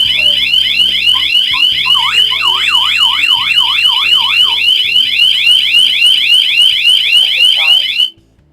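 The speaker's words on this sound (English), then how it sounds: "That is the alarm." A loud electronic security alarm, triggered by a photoelectric beam sensor, sounds continuously, its warbling, siren-like tones repeating rapidly before cutting off abruptly near the end.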